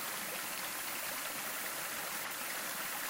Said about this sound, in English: It's actually a creek that's crossing the trail.